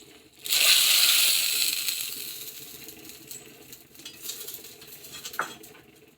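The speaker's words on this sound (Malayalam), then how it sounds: "കടുക് പൊട്ടിക്കാനായിട്ട് നിന്നത്" Mustard seeds hit hot oil for tempering a curry in a village kitchen, bursting into a loud hiss that fades over several seconds into sparse popping and a few utensil clinks.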